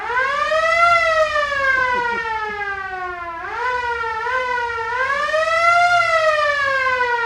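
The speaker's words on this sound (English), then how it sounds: "I think that's a siren." Theatre organ siren effect wailing loud and steady, its pitch sliding slowly down, then swooping back up in a rising and falling cycle, with no talk over it.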